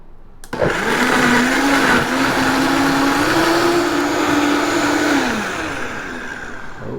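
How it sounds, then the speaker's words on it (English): A blender whirs loudly up close through onion, garlic and jalapeno for red enchilada sauce, starting with a sharp click, holding a steady high motor whine that rises slightly, then easing off as the blades slow. "we're going to get to blending"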